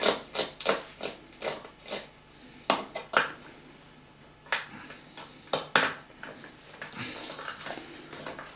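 A small watchmaker's screwdriver works at the screws of an LED party light, giving sharp, irregular metallic clicks and taps up close, fairly quiet, with brief scraping between.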